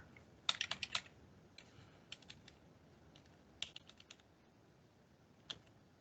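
Quiet clattering keystrokes on a computer keyboard arrive in short irregular bursts, a quick cluster near the start and sparser taps later. They sound close but faint, with no voices in the clip.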